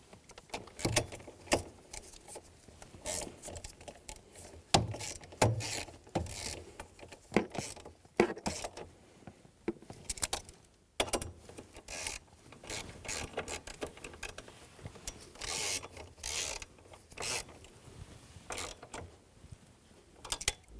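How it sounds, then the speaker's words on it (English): Nuts and bolts on the steering column flexible coupler of a 2011-2014 Hyundai Sonata being snugged down with a ratchet, giving long stretches of quiet, rapid clicking in uneven bursts with occasional clanks. "Go around and snug down the nuts and the bolts."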